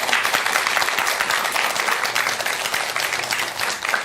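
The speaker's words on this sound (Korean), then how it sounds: "박수 한번 쳐주세요." Listeners at a Buddhist lecture by a monk on a Buddhist TV program give a loud, dense round of applause, continuous and fairly close, holding steady for about four seconds.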